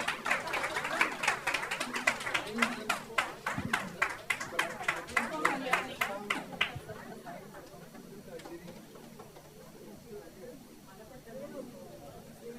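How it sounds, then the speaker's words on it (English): Attendees at an endoscopy masterclass clap in a steady, even rhythm for several seconds, then the clapping thins into scattered, fainter claps and fades out. Voices can be heard faintly in the background. "Can we have a round of applause,"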